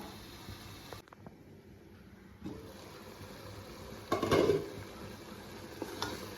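Thick chicken biryani masala being stirred in a pot, with soft scraping and squishing strokes that swell into a brief louder burst near the middle, alone with no talk.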